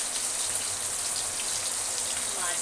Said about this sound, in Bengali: বাইরে তো বিভৎস বৃষ্টি পড়ছে